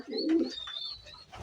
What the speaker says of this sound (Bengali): কবুতরগুলো খাবার খাইতেছে